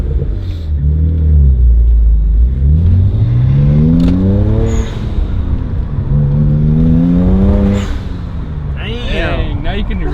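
A BMW N54 335i with an aluminum charge pipe and HKS blow-off valve revving hard, the engine note climbing and falling through several loud rev sweeps, with a whooshing valve release and a voice speaking near the end.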